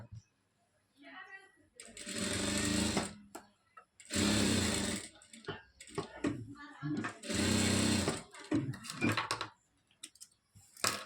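A sewing machine stitches lining onto a chudidar dress top in several loud, close bursts of rapid whirring, separated by pauses in which a voice speaks.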